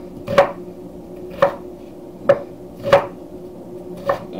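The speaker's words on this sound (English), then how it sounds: "A good old rough chop." Onions being roughly chopped with a knife on a board, five slow, evenly spaced thuds over a low steady background hum, close and clear with no speech.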